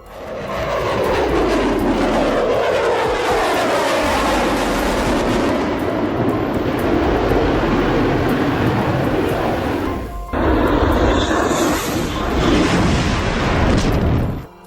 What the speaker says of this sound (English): F-22 Raptor tearing through the sky like it owns the place.